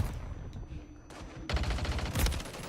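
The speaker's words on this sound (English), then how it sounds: "let's see what we can do with brand new SMG" A brand-new SMG fires in a video game: rapid, loud automatic bursts. A short shot comes first, then a dense rattling stream of fire fills the last second or so.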